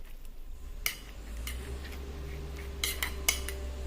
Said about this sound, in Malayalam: നമുക്ക് ഇതിലേക്ക് ഈ തൈര് കൂടി ഒന്ന് ചേർത്ത് കൊടുത്ത് ഒന്ന് മിക്സ് ചെയ്യാം